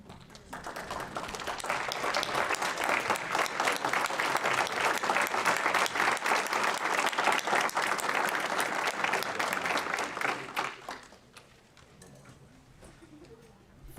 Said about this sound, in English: please, because we want to applaud all of you